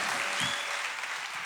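A crowd at a religious gathering claps in brief, steady applause, dense and moderately loud for a second and a half.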